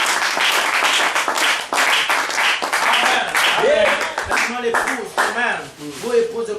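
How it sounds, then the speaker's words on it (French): A church congregation breaks into loud, sustained applause and clapping during a French-language worship service, with a voice talking over the clapping. "Donnons-nous pour l'acclamation au Seigneur"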